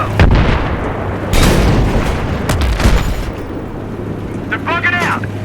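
M1 Abrams tank main guns fire in combat, with several heavy booms and rumbling blasts over a droning engine hum while voices shout commands.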